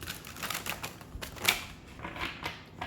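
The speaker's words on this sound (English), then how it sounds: "Let me get one more good shuffle" Tarot cards are shuffled close by in a series of quick, soft riffling clicks and taps that come in short bursts, faint and alone without talk.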